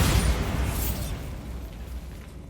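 A Bombarda blasting spell goes off in Hogwarts Legacy, a loud close explosion with a heavy low boom at the onset that rumbles and fades over about two seconds.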